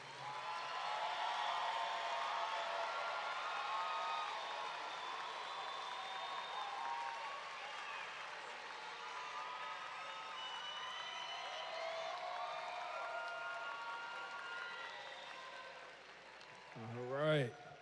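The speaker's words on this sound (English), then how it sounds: "Another round of applause for the graduates." A crowd at a high school graduation ceremony applauds the graduates, sustained clapping that is steady and fairly distant, with a voice speaking briefly near the end.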